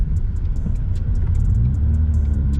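A 2020 Ford Mustang EcoBoost 2.3-litre turbo four-cylinder with an aftermarket Circuit Concept Garage catback exhaust idles with a deep, steady exhaust rumble and occasional light crackles, close by and continuous throughout.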